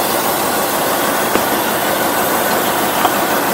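A Ford Bronco engine idles steadily as it warms up, giving a constant, loud broadband rumble with a couple of faint clicks and no talking.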